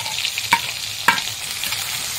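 Potatoes fry lightly browned in a pan with chilli, turmeric, ginger and salt, a steady sizzle broken by two sharp stirring scrapes near the start and middle.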